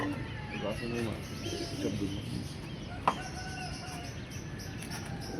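Pigeons on a rooftop flying loft give soft, low coos across the stretch, mixed with faint clucking and background voices, plus one brief sharp knock midway.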